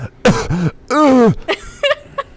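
A few close, harsh throat-clearing coughs with short gaps between them, rough and voiced.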